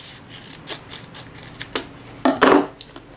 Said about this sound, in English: Cut that in half.